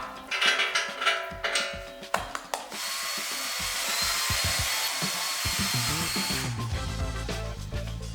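A thread tap works through holes in metal parts of a plastic shredder box, a burst of short clattering tool strikes giving way to a steady, loud power-tool whine that hums on without a break.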